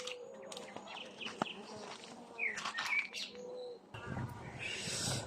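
Honeybees buzzing around an opened hive colony of a Buckfast-cross strain, a steady close hum with birds chirping nearby and a louder, denser swell of buzzing near the end.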